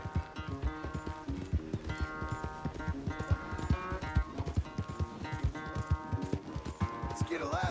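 Horse hooves clip-clop in a quick, steady rhythm in the video game Red Dead Redemption II, close and loud, mixed with game sounds and a brief sharp cry near the end.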